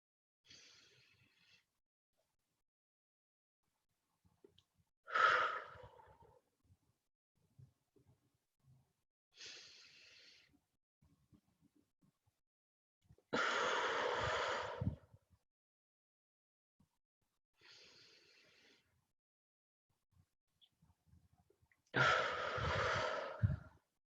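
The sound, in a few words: people doing a slow breathing exercise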